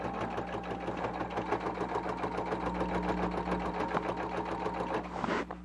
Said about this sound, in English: the reason you hear all the tick, tick, tick, tick, tick is because the machine's working hard